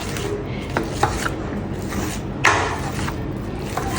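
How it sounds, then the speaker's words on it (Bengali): Taki fish is mashed with a cup, giving soft repeated scraping and rubbing with a few sharper knocks against the bowl, close up and fairly loud. "এই কাপটার সাহায্যে আমি মাছগুলোকে থেতো করে একটু মিশিয়ে নেব।"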